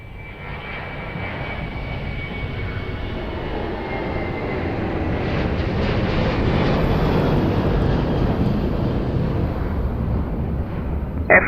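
Air France airliner on final approach to Lisbon Airport, a steady jet engine roar that swells gradually louder as the plane nears, with a faint high whine early on.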